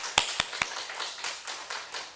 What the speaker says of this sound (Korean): 다시 한번 하나님께 영광의 박수 돌리겠습니다.